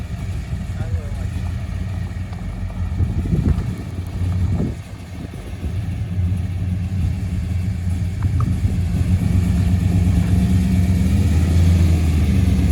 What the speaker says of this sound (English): Magnaflow mufflers. They sound good.